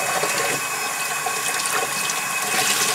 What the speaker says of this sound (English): you're going to want to rinse it until your um, t-shirt runs completely clear, or the water runs clear.